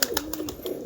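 A large Kaldama pigeon gives a short, low, wavering coo up close, lasting under a second, with faint clicks around it and no voices.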